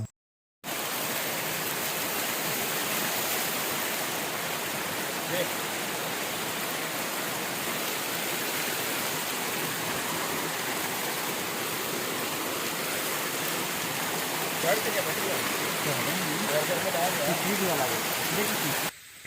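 A steady, broad rush of a flowing river fills the whole stretch, constant and loud like a nearby stream running over stones, at night.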